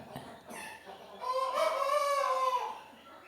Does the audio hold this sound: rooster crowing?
yes